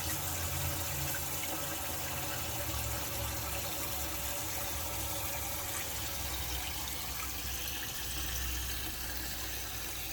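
Water flows continuously into a DIY Moeller bait tank, entering through quartz at the bottom, a steady broadband rushing and gurgling at moderate level throughout.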